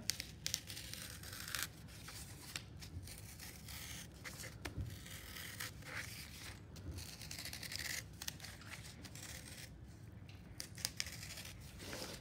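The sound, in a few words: knife cutting guitar shape out of cardboard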